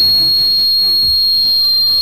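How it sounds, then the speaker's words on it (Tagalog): A single loud, piercing whistle is blown to call for attention, one steady unbroken high tone held for about two seconds with nothing else heard. "mainam na pantawag pansin ang pito"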